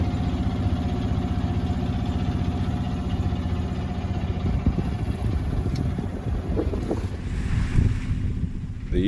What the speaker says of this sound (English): Boat rushing through the waves,